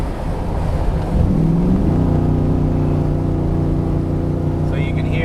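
A car's motor and exhaust hum steadily up close as it slows before a hill, a low droning rumble with a slight rise in pitch partway through, continuous and loud without talk.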